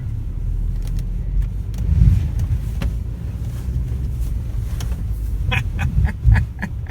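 A car punching the throttle through deep snow, engine rumbling loud and steady close by with a swell of revving near the middle and again toward the end, no talk over it.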